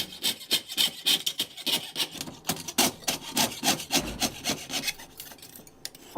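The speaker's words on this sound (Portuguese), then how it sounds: "Começamos por arrenteá-las com um serrote, de forma a nunca danificar o molde" A hand saw trims cast gold jewellery pieces at a workbench, giving quick rhythmic rasping strokes, close and fairly loud, about a dozen back-and-forth cuts with no talking.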